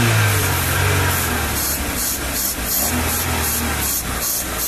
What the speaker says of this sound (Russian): заводим двигатель и идем на заведенном двигателе